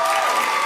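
An audience claps in a dense, steady burst of applause that fills the short stretch at full strength, with no individual voices standing out.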